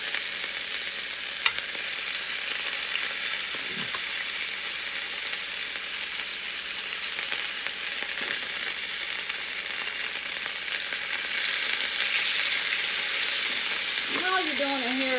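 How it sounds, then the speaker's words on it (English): Beef tips sizzle loudly and steadily while searing in a hot pan, a constant crackling hiss with a faint voice briefly heard near the end. "put this meat down in the pan. It could be a bit hotter, but it is hot. You hear that sizzle."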